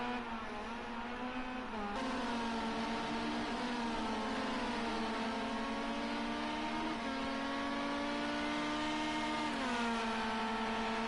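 A race car at the Ruapuna circuit in New Zealand holds a constant, steady engine drone with a whining harmonic tone that shifts pitch slightly, heard alone for the whole stretch without any talk.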